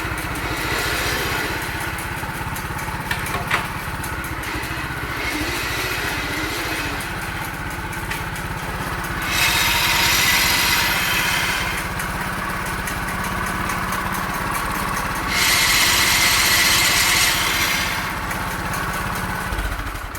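A rebuilt 1968 Sears Suburban 12 garden tractor engine runs steadily at a moderate distance while the tractor moves, with two louder surges in engine noise partway through and no talking.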